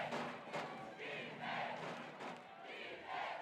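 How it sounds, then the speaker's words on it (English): A college football stadium crowd at Bethune-Cookman versus Alabama A&M roars to back the defense near the goal line, a sustained, swelling cheer with shouting that sounds fairly distant. "Crowd gets loud"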